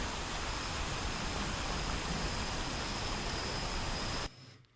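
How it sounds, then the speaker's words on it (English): Ambient noise mix blending crickets, wind, waves and very quiet thunder forms a dense, steady hiss with a faint high tone running through it, then cuts off abruptly near the end. "let's say we want to have some crickets, a little bit of wind, a little bit of waves, and some very quiet thunder in the background."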